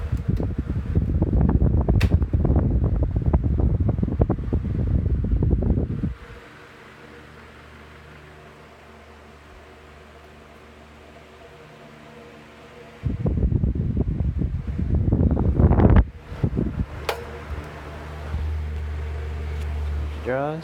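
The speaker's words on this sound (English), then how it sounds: "Okay, here's it oscillating." A vintage Galaxy 12-inch table fan oscillates, giving a steady soft whir and airflow hiss. Louder broadband rushing sections surround the calmer hum in the middle.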